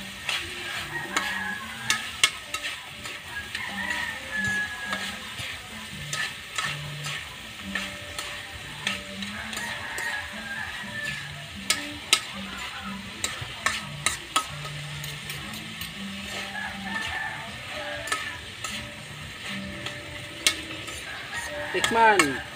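A sautéing dish of banana blossom being stirred in a sizzling pan, with steady rhythmic scraping and frequent metallic clicks of the spoon against the pan, close and continuous under a faint background hum.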